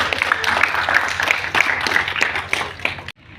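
A group claps in unison during an outdoor yoga session at an engineering institute, steady rhythmic applause that continues for about three seconds and then stops abruptly.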